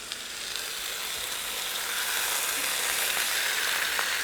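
Fish frying in a pan until crispy, a steady broadband sizzle with fine crackling and occasional small pops, close and continuous, with no talking.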